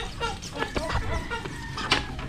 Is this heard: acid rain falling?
no